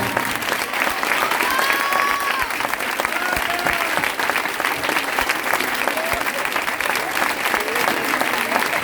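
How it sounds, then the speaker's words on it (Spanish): Sustained audience applause at a secondary school Christmas festival, dense, even clapping filling the hall for several seconds, with some cheering and voices mixed into the crowd noise. "Ole tú, Olaya, un aplauso."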